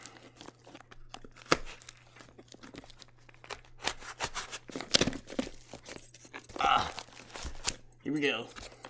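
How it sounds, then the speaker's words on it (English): Thick packing tape being torn and peeled off a cardboard package during an unboxing, with rough ripping bursts, crinkling and rustling close by, mixed with a person talking. "This is some thick tape."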